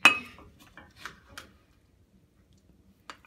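A knife cuts slices of leftover pot roast on a plate, with a few short clinks and scrapes of metal against dishware that fade into near silence before one last tap.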